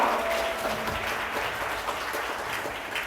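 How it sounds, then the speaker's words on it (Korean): A concert audience at a study-method talk event breaks into loud, dense applause that stays steady throughout, many hands clapping together close and full. "우리 나연 리더님께 다시 한번 큰 박수 부탁드리겠습니다"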